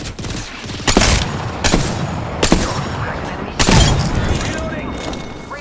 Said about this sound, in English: Getting shot at. Taking fire.